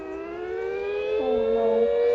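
Tornado sirens in a video game wail together in steady, layered tones, with one pitch dipping and sliding as the sound swells slightly louder.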